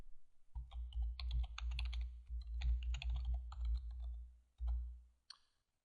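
Computer keyboard and mouse clicks come in quick, steady bursts while editing a report title in design software, close and fairly loud, with short pauses and a final isolated click.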